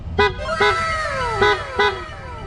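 A PIAA loud horn fitted to a Honda Click scooter gives four short, sharp toots in an uneven rhythm, close and bright against a low background hum.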